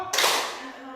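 A single sharp hand clap from a school clapping chant, loud and close, quickly fading into the room.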